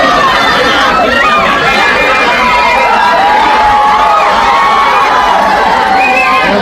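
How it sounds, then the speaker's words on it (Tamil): Crowd outside a Murugan temple cheering for Pawan Kalyan, a loud, close, continuous clamor of shouts and excited voices layered together without letup. "கோயிலுக்கு வெளியே காத்திருந்தவர்கள் பவன் கல்யாணை கண்டதும் ஆரவாரம் செய்தனர்."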